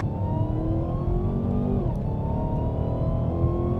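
Cars accelerating hard in a street drag race against a Hellcat, a steady loud engine roar climbing in pitch with a brief shift dip midway, heard from inside one of the cars.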